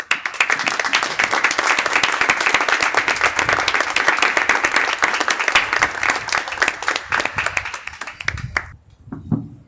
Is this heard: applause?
yes